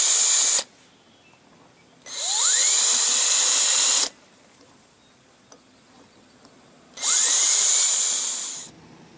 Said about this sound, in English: take a really tiny drill bit and maybe ream those holes out a bit